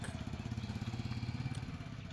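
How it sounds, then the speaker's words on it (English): Motorbike engine running steadily nearby in a quiet village in the morning, a low throbbing rumble with a regular pulse sustained for a couple of seconds at moderate level, no talking. "another motorbike"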